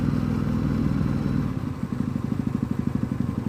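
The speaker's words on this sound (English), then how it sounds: "while the people on the motorcycles just cruise on by them." Several motorcycles rumble past on a road through Great Smoky Mountains National Park, a steady low engine drone that turns into a pulsing, throbbing idle-like beat partway through, fairly close and loud with no talk.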